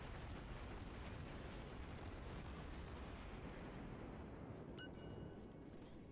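Warship guns firing in World of Warships, heavy booming salvos blending into a continuous low rumble of naval gunfire with fainter distant blasts, no talk.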